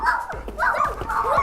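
Children imitating a dog with a run of quick yipping, whimpering barks, close and fairly loud, filling the short moment.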